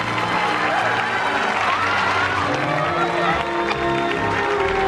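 Applause and cheering from a crowd in a musical movie scene as girls sing, a steady dense wash of clapping mixed with music and voices throughout.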